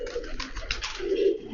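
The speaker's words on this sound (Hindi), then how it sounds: "ये है अमीरिया चोटीदार, बहुत ही बेहतरीन, बहुत ही प्यारी नस्ल का कबूतर है" A four-year-old Amiriya Chotidar pigeon gives a soft, low coo, faint and close, in a quiet room.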